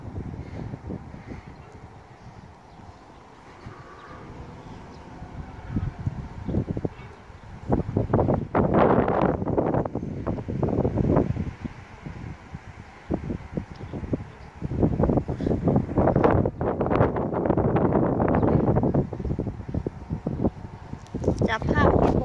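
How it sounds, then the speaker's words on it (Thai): Strong wind gusting at a Buddhist meditation center temple, roaring in bursts against the microphone with heavy buffeting, loud and continuous, swelling in strong surges around the middle and toward the end. "ลมมันแรง"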